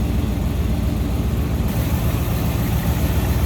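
The V8 engine of a 1957 Oldsmobile 88 idles steadily with a deep, rumbling low-end throb, close by and continuous, with no voices.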